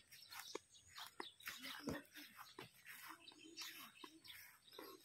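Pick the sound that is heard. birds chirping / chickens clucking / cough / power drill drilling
birds chirping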